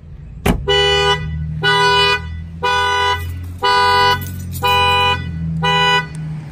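Car alarm set off by banging on the keyhole: a sharp knock, then a loud horn honking in six steady, evenly spaced blasts over a low engine-like hum.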